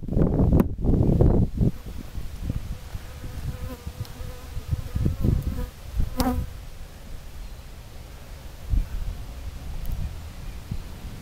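Honey bees buzzing around an open beehive during an inspection, a dense outdoor drone close to the microphone, with rustling and handling knocks and occasional wind.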